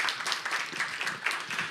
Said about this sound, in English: Give a round of applause for Mr. Quito Delgado.